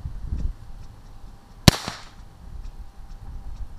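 A single sharp muzzleloader shot firing a light wooden round ball over a 35-grain powder charge, one loud crack standing alone with a brief tail fading into quiet outdoor background.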